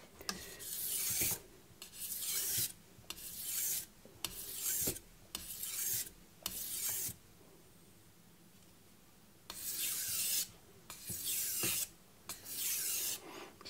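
Steel blade being sharpened on a Naniwa Pro whetstone: repeated rhythmic scraping strokes in bursts of three to four, with a pause in the middle, close and fairly quiet, no talking.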